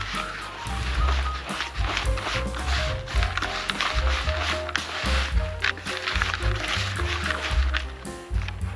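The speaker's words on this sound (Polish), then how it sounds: "I tym będę rozrabiał." Wet fishing groundbait mixed by hand with added water and grains, giving a steady close squelching, rustling churn throughout, with no talk.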